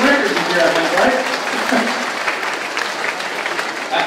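A round of applause for the parent-teacher organization at a primary school awards ceremony, loud close clapping from the crowd with some voices mixed in, holding steady throughout.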